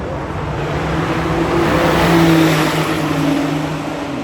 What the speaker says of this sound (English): We have some Nissan GTRs, Supras, which are going to burn the tarmac.